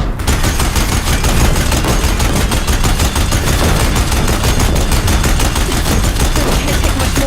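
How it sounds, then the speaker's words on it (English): Deathbringer machines in Horizon Zero Dawn Remastered fire without pause, a loud, close, rapid stream of mechanical gunfire that keeps the same relentless rhythm throughout, with no voices. "If the Deathbringers keep firing,"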